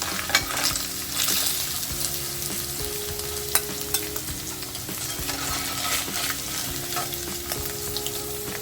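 Paneer pieces fry in hot oil in a pan, a steady close crackling sizzle with scattered pops and light scraping of a spoon, no voices.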